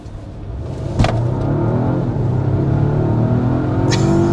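Engine of a 2024 Volvo XC90 SUV pulling under hard acceleration, a steady loud drone that rises in pitch through the run with no talking.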